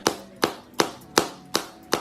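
Six sharp, evenly spaced claps ring out at a steady rhythm, close and crisp, made by hands to imitate booty clapping, with no voices present.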